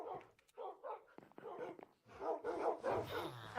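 Several dogs bark and yip in Minecraft in bursts through the clip, with a few whimpers and soft yips, a busy pack of game dogs at moderate loudness with game sounds underneath.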